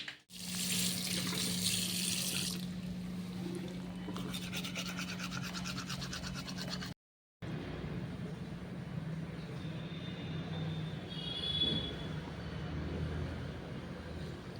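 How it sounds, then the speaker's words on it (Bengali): A tap runs steadily into a sink during face washing on a cold winter morning, a continuous close splashing flow that cuts out briefly partway through and then resumes, with no clear talking. "চলো এবার মুখ চোখ ধোয়া যাক"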